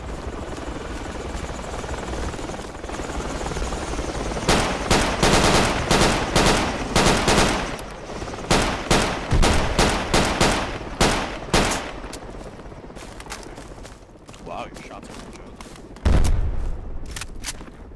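Video game battle around a German barn: a helicopter's constant rotor drone runs underneath while bursts of rapid automatic gunfire crack out in repeated volleys, then a single loud boom near the end.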